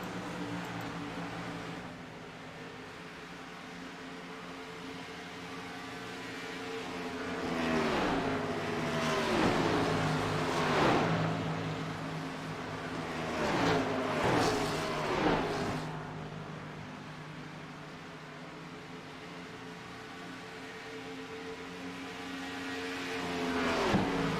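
Race cars lapping a track during a SCAR championship race, engines roaring and rising and falling as several cars pass by in bursts, loud and continuous.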